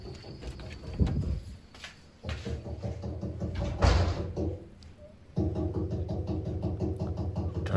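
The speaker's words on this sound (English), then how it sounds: "the knocks are happening inside" Inside a building in a horror-style video game, dull knocks and door-like thuds land at scattered intervals over a low, eerie ambient hum, moderately loud and nearby.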